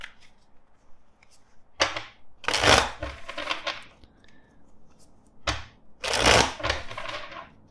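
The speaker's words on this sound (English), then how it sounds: "let's shuffle the deck four times." Tarot deck shuffled by hand, two bursts of riffling card flutter with sharp snaps between them, close and crisp, with quiet gaps between the bursts.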